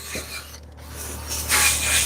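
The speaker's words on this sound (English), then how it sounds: "now we're just gonna drill brush this carpet" Drill-mounted brush scrubbing car carpet, a brief raspy rubbing noise that swells louder toward the end, close and alone with no talking.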